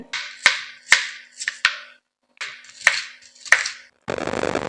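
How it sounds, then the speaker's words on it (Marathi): Onion chopped finely with a knife on a board: a run of crisp, evenly spaced close chops in two short bursts separated by a brief pause, then a soft rustle. "आता मी इथे कांदा कट करून घेणार आहे।"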